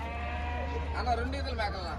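Goats bleat in wavering calls partway through at a goat market in Piler, India, over a constant low hum and faint background voices.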